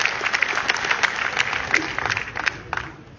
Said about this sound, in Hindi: मैं दोनों का जोरदार तालियों के साथ इस महफिल में इस्तकबाल करता हूं